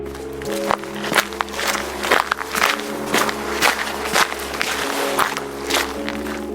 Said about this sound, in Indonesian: Suara geretan itu makin dekat dan disusul oleh suara seperti langkah kaki yang pelan.